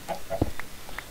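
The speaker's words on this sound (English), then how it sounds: "Chicken," A Minecraft chicken clucks in a few short, close bursts spread over about a second.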